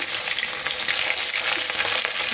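Fish sizzle in hot oil in a pan, a dense continuous crackle that stays loud and steady with no voices.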